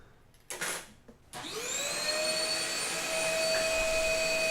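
A vacuum cleaner picks up sawdust around a metal-finished dance pad replica. After a couple of brief knocks it starts up, spins up and settles into a steady, close whine that stays loud and even.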